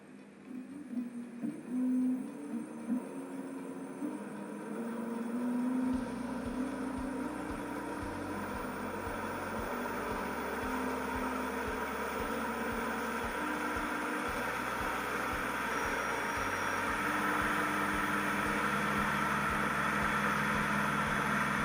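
A BLDC electric hub motor on an EV learning board spins up under throttle, a steady electric whine with a pulsing low hum that starts after a few seconds of quiet and holds at a constant level.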